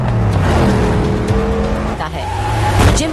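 A Hummer and other cars race through traffic in an action-film chase, engines roaring loudly with tire squeals and skids, busy and close throughout.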